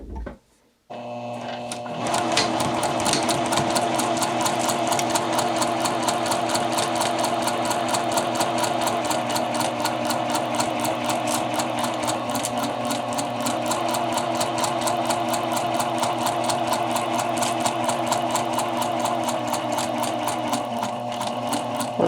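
Sewing machine running continuously on a number 2 stitch around curved fabric, a fast steady mechanical whirr after a brief start, close and loud with no talking.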